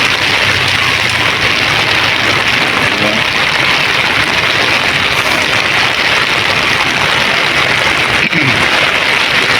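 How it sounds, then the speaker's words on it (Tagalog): Steady, dense rain from a typhoon pours for days without a break, a constant broadband hiss with a faint low rumble beneath. "Walang tigil ang ulan."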